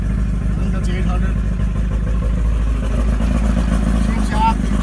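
A 40hp Mercury two-stroke carbureted outboard idles just under 1,000 rpm with a steady, close, low rumble that never changes pace, while someone talks over it.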